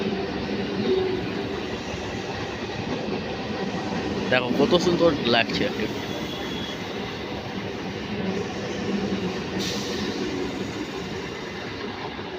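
A local train on the Saktigarh chord line rumbles past with a steady clatter and brief screeching wheels, while a person talks briefly over the noise.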